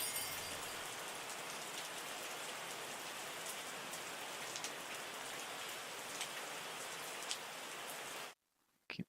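Steady rain falls in the Wine Making Tycoon Simulator video game, a dense, even hiss that continues without a break and then cuts off abruptly near the end.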